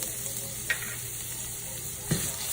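Chopped onions sauté in olive oil in a pot for risotto, giving a soft, even sizzle with two brief clanks of a stirring spoon and no voices.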